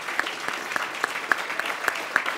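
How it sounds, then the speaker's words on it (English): A small audience claps for a speaker, with distinct sharp claps in a quick, even rhythm standing out over softer background clapping, fairly faint and brief. "If we could give the distinguished gentleman that spoke a word another round of applause."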